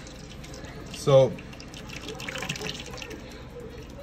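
Watery puppy food is poured into a bowl, a short wet splash and slosh up close, with someone talking briefly around it.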